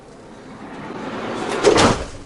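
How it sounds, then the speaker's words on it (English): A cabinet door on a kitchen unit in a VW Crafter van conversion swings and shuts, a soft rising slide ending in a brief, fairly close knock, with no talking. "make sure that the door shuts"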